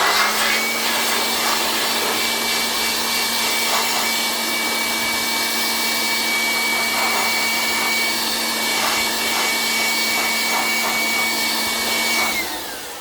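An air blower drying a car body panel during a smart repair on a Daihatsu Materia, a loud steady whirring rush with a constant hum that runs nearly the whole time before cutting off at the end.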